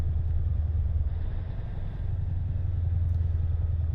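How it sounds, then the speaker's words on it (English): A heavy truck engine runs steadily, a deep continuous low rumble heard from inside the cab, moderately loud with no talking. "This truck does sound pretty good, though, with that engine."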